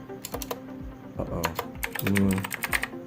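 Typing on a computer keyboard: a rapid, irregular run of close, crisp key clicks with no voice over them.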